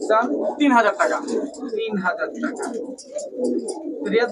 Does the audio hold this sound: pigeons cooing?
yes